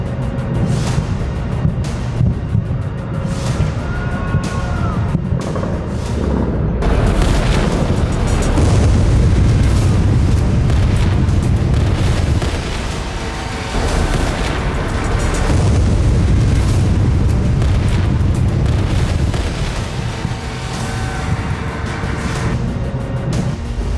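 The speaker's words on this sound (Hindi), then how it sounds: "तेहरान में अब धमाके पर धमाके हो रहे हैं।" Explosions in Tehran during the Iran–Israel war: heavy booming blasts and deep rumbles roll in repeated waves, loud and close, with sustained roaring between the hits.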